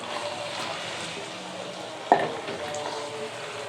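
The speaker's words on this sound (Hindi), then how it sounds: "ये मिक्स करके थोड़ी सी भून लेनी है और बस ये तैयार" Potato and spinach sabzi being stir-fried in a pan, a constant soft sizzle with faint stirring scrapes and one sharp utensil knock near the middle.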